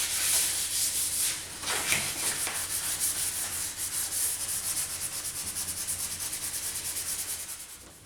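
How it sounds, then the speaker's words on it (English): An oak coffee table being hand-sanded with fine 1200 grit sandpaper: steady, close scratchy rubbing strokes repeat in an even rhythm for the whole stretch, with no talking. "I'm going to start off by giving it a good sanding with quite a fine grit. I've got 1200 grit sandpaper here"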